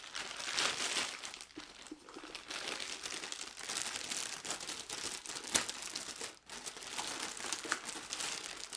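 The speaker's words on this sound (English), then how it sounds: "Let's cut this open." Plastic and cardboard packaging of a new 4-terabyte RAID travel hard drive crinkles and tears continuously up close as it is cut open and unwrapped, with a sharp crunch partway through.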